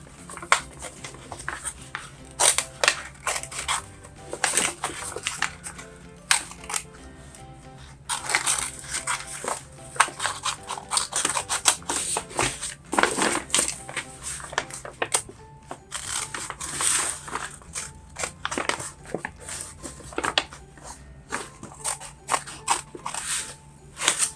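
Scissors snip through a paper grocery bag in repeated crisp cuts and rustles, close by and uneven in rhythm over a faint steady background.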